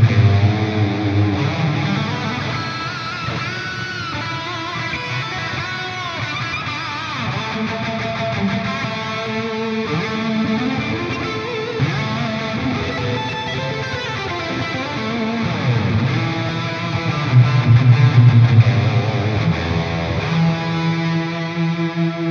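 Distorted high-gain electric guitar played through a Walrus Audio Mira optical compressor pedal with generous reverb, sustained chords and lead lines ringing out continuously and loud, with no talking.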